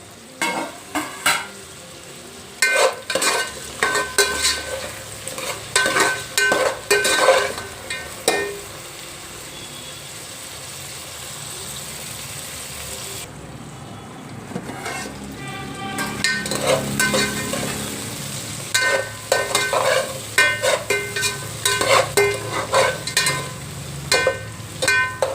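Food with tomato pieces frying in a pan at a biryani stall, a continuous sizzle punctuated by bursts of sharp rhythmic scraping and clanking of a spatula against the pan, pausing briefly midway.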